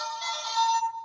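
A Gokaiger Legend Mobirates toy switches on with a short electronic chime, a bright synthetic tone lasting about a second, close and alone.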